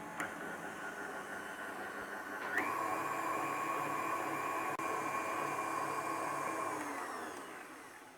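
A stand mixer whirs steadily while mixing pumpkin and walnut cookie dough. Its motor steps up to a higher, louder pitch partway through and holds there, close and alone, with no talk.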